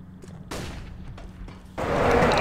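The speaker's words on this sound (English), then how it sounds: "I'm throwing a flashbang." A flashbang grenade thrown during a PC first-person shooter match, heard as a sharp burst followed by a louder, sustained blast of hiss and roar amid other game gunfire and booms.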